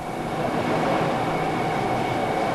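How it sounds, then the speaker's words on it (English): A train carrying a presidential party glides into the station platform at Utsunomiya, Japan, as a loud, steady rumbling roar with a sustained whine, heard alone with no voices. "the train carrying the president's party glides into the platform at Utsunomiya."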